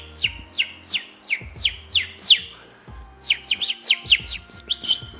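A person whistles or squeaks a rapid series of bright chirps imitating a small bird, in two bursts of about seven sharp tweets each separated by a short pause, close and clear.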